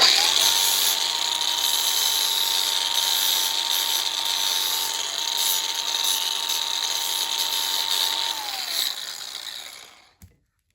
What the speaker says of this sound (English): Might give that a dust up with the grinder, it's a wee bit heavy.